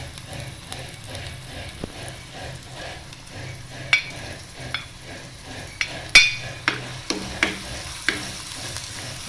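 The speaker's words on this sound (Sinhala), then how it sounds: "තෙල් එක රත් වුණාට පස්සේ මේ ආකාරයට එකතු කර ගන්නවා." Ingredients for a mushroom dish hit hot oil, giving a soft, steady sizzle close by, punctuated by sharp clinks and taps of a utensil stirring the pan.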